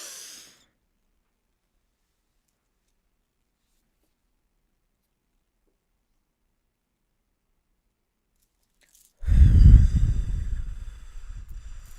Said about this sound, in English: I'm going to take this breath really, a big, deep breath along with you.